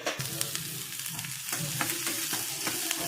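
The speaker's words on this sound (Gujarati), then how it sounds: "જો આપણી દાળમાં હવે તડકો મારવાનો છે" Dal tadka sizzling and spitting in hot oil in a home kitchen, a steady crackling fry with sharp pops and clinks of a spoon stirring through it, no talking.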